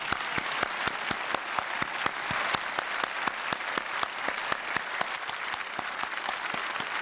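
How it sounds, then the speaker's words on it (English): An audience at an evening event honoring the Apollo 11 astronauts applauds, a steady wash of clapping with sharp, regularly spaced loud claps from one nearby pair of hands running throughout. "How about a round of applause,"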